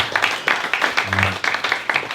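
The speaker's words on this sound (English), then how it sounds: "Give that a round of applause, man" Audience applause for a speaker on a summit panel comes as a short burst of rhythmic clapping, fairly close and steady throughout.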